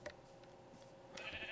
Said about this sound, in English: Ooh, and a sheep.